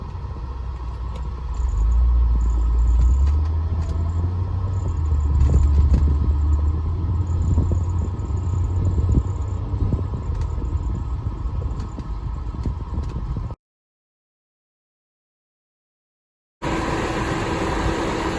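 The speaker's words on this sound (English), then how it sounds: "you'll hear a good example of the chirping or the air conditioner noise I've been mentioning" A 1993 Mercedes 300E with air conditioning running gives a steady engine rumble and a faint repeating chirp, followed by a few seconds of silence and then a brief return of the noise.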